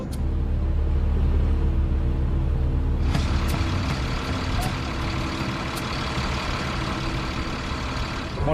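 A 23-tonne mine-protected armored vehicle rolls slowly, its engine a continuous heavy low rumble with rattling and a brighter mechanical whine that rises partway through, loud and close throughout.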